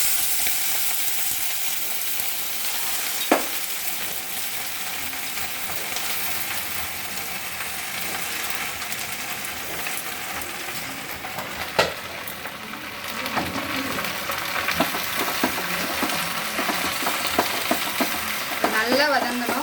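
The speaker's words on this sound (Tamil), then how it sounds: "இதில் கொஞ்சமாக ஆயில் ஊற்றி ஏற்கனவே கழுவி வச்சுருக்கிற கோங்கூராவும் இதில் போட்டுக்கணும்." Washed gongura leaves fry in a little oil in a pan, giving a steady close sizzle throughout with occasional clicks of stirring, and no talking.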